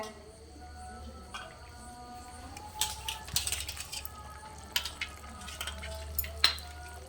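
Tamarind juice pours into a pan of brinjal and dried prawn curry, a steady low sizzle running throughout with scattered bursts of stirring and clinking as the liquid hits the hot pan.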